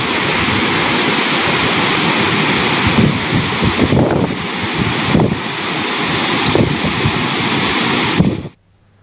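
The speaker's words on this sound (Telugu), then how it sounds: "ఆలయ గోపురం పై నుంచి కిందకు జాలువారుతున్న వర్షపు నీరు" Rainwater pours and splashes continuously down the tower of the Yadadri Lakshmi Narasimha Swamy temple in Telangana, a loud, rushing cascade with occasional gusts of wind buffeting the microphone before it cuts off.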